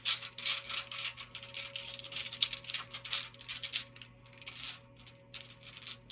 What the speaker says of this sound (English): we're going to do the dice. So I'm just going to reach in and grab a few.